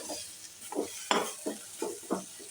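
Peas and spices sautéed for matar paneer, stirred in a pan with soft rhythmic scrapes about twice a second and a faint sizzle underneath; close and quiet, no voices.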